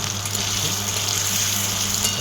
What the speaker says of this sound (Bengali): এখানে ভালো করে আলুটা ভেজে নিচ্ছি